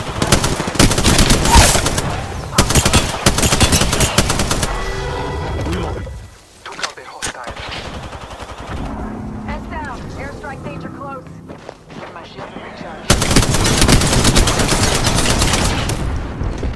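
Rapid automatic gunfire in the shooter game Apex Legends, loud dense bursts of shots at the start and again near the end, with a quieter stretch of scattered effects and a voice between.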